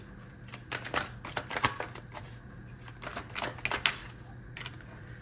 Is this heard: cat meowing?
no